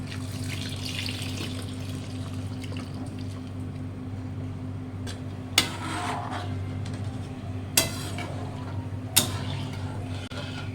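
Coconut milk is poured into a clay pot in a steady, liquid stream under a low hum, broken by a few sharp clinks.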